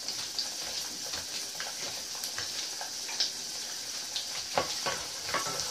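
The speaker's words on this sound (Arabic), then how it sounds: "ودابا نقومو نخلي اللوز، حطينا في زيت" Almonds frying in hot oil in a cooking pot give a faint, steady sizzle, broken by a few soft clinks and scrapes from stirring.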